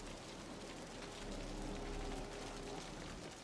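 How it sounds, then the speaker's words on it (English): Heavy rain in the Wuthering Waves video game, a dense, steady hiss of downpour at moderate level throughout, with no talk. "The rain's getting heavier."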